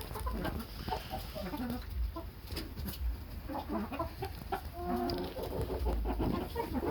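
Hens and chicks clucking and calling in a farm flock, steady overlapping chatter at moderate distance with occasional sharper calls, no talking.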